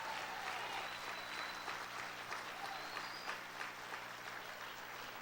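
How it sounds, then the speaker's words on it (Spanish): A church congregation applauds, a steady, distant wash of many hands clapping together, sustained throughout with a low hum beneath. "Aplauda al Señor, ese es bueno."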